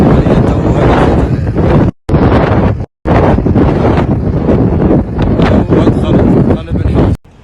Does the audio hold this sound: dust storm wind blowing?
yes